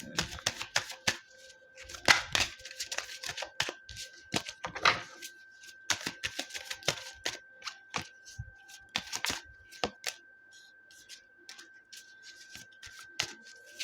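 Tarot cards being shuffled and drawn, with repeated crisp riffling bursts and flicking slaps in uneven clusters, close and clear with quiet pauses between handlings.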